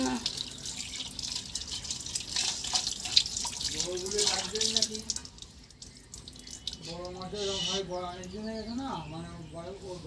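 Tap water runs and splashes as live singhi fish are washed in a kitchen sink. The steady close rush continues under a woman's speech that comes in partway through, with faint chirps in the background.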